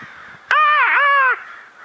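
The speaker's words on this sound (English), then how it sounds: "You hear the birdies? Call them." Crow giving a single loud, drawn-out caw outdoors in snow, close by, rising sharply and cutting off after under a second over faint background noise.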